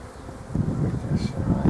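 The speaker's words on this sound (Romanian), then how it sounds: "Albinuțile pe acolo." Honeybees buzz around an opened hive, a dense, close, steady hum swelling and dipping slightly over a short stretch with no talk.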